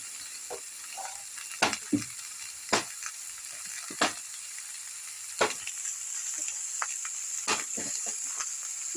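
Bottle gourd fries in a pan for a Bengali lau chingri dish, with a steady soft sizzle broken by repeated knocks and clacks of a spatula stirring.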